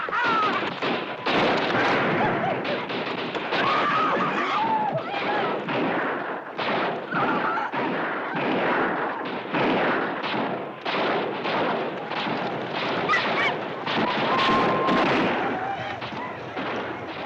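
Gunfire crackles through a battle scene, dense and continuous with rapid overlapping shots and bursts of varying loudness, some near and some farther off, sustained for the whole stretch.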